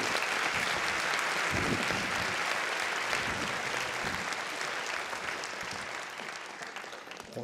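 An audience at a physics lecture applauds to welcome Professor Ferenc Krausz, a sustained, dense clapping from a full room that holds steady and only slightly tapers toward the end.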